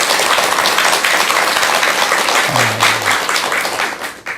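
An audience at a Buddhist lecture claps in a loud, sustained round of applause. A short voiced sound briefly rises beneath it midway, and the clapping tapers off at the end.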